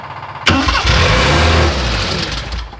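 A freshly built Morris Minor with the choke on, its engine cranking abruptly and catching into a loud, close, rough running roar that holds for a couple of seconds before easing slightly.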